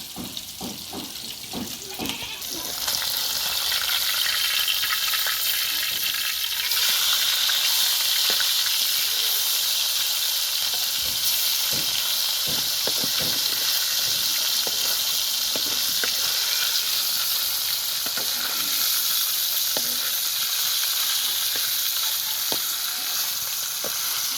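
Katla fish sizzles in hot oil, a close, continuous frying hiss that swells after a quieter start and crackles on without pause.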